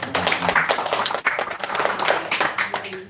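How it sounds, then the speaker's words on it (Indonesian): A group at a village facilitator training session in Central Kalimantan claps in a short, uneven burst of close hand claps lasting about three seconds, with some voices underneath. "Tepuk tangan dulu lah buat"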